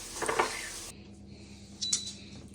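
Dishes and a small pot clink while the pot is washed in cold water, a burst of clattering at the start followed by quieter kitchen handling and a second brief clink near the end.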